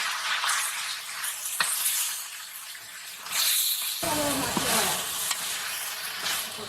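Okra added to cumin paste and spices already fried in oil in a village kitchen sizzles and hisses steadily, with a sharp crackling burst partway through as the vegetables hit the hot pan, plus a faint clink of stirring.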